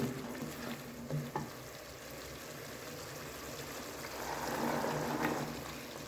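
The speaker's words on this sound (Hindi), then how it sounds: "अब इसको हम तकरीबन 3-4 सेकंड और भूनते हैं अपने मसाले को।" Spice masala for an anda matar (egg and pea) curry being fried in a pan, a fairly quiet, continuous sizzle with a few stirring clicks early on that swells slightly near the end; no voices.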